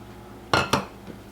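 A spoon clinks twice against the inside of a crockpot while stirring chicken noodle soup with egg noodles, two bright close knocks followed by a faint third tap.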